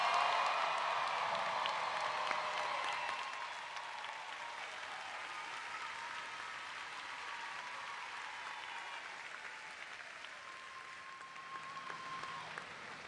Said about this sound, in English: let's give our most recent Kennesaw State graduates one more round of applause